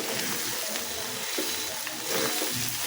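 Steady sizzling and frying hiss from a pan of bitter gourd, with a few soft stirring scrapes and clinks, no voices.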